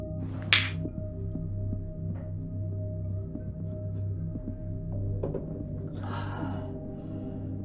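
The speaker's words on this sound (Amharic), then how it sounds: "ቺርስ ቺርስ ለድላችን" Drinking glasses clink together in a toast, a single sharp bright chink early on followed later by a softer rattling clink, faint against a steady low hum in a quiet room.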